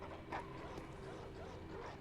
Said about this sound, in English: Stop barking and come here.